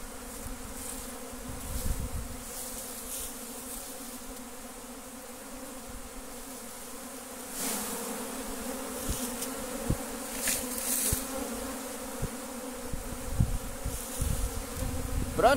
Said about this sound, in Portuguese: Olha o tanto de abelha, ó.